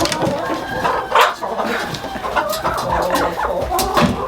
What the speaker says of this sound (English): This is one of my breeding roosters.